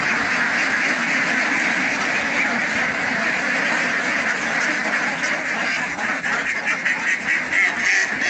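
A flock of farm ducks about three and a half months old quacks steadily and loudly throughout, a dense continuous chorus of overlapping calls close by.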